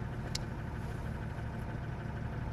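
A Mercedes-Benz truck engine idles in a low, even rumble, steady and moderately faint, with no voices over it.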